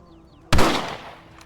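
A single loud rifle shot from the Red Dead Redemption video game bursts out sharply after a quiet stretch, then trails off in a long decaying echo.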